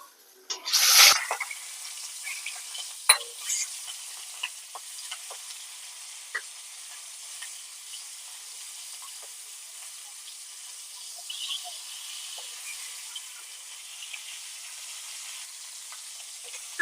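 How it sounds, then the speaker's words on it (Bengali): Hilsa fish hits hot oil with a sudden bright hiss, then settles into a steady, even sizzle of frying that carries on with small pops and crackles, no voices. "তেল গরম হয়ে গেছে, এবার আমি মাছটা দিয়ে দেব।"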